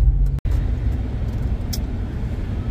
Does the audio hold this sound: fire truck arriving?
yes